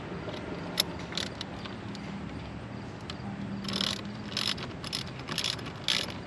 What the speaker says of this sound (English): So I got my fancy Blue Point socket here